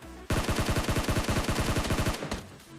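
Rapid automatic gunfire in a battle royale video game, a loud, close burst of about twenty evenly spaced shots lasting over two seconds, with no talking.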